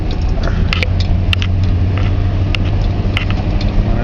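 A car with an upgraded transmission pulling away in first gear: a constant low engine and drivetrain rumble close to the microphone, with light ticks and rattles scattered over it and no voices.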